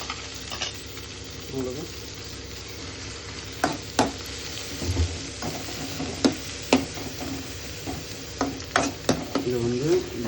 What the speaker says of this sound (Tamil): இதை வந்து ப்ரௌனிஷாக வர வரைக்கும் நம்ம இதை ஃப்ரை பண்ணிக்கலாம்.